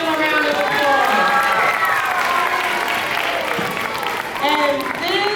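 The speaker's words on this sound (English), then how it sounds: "Let's give them a round of applause." A crowd at a school show applauds and cheers the young performers. Loud, sustained clapping mixes with excited shouts and voices, with a brief dip near the end before the cheering swells again.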